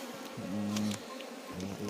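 Honeybees buzzing on a hive comb frame during beekeeping, a steady close drone with passing individual bees swelling louder and fading, no talk.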